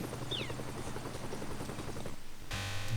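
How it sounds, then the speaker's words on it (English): A helicopter in Strong Bad's Cool Game for Attractive People gives a loud, rapid rotor chop that beats steadily before cutting off, followed by a brief burst of another sound at the end. "Another perfect landing out of a helicopter!"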